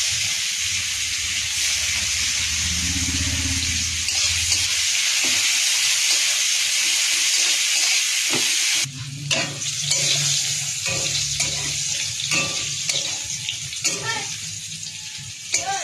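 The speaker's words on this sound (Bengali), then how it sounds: "পেঁয়াজটা দিয়ে দিচ্ছি" Onion hitting hot oil with panch phoron, a loud continuous sizzle and hiss that shifts midway as stirring begins, with brief talk in the background.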